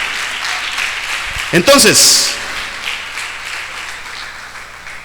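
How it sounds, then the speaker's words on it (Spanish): A church congregation applauds the Lord in a steady, broad wash of clapping that swells and then eases, while a pastor's voice speaks over it in the middle. "Dele un aplauso al Señor."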